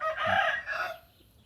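A rooster from a backyard chicken coop lets out a single close, clear crow that rises and fades within about a second.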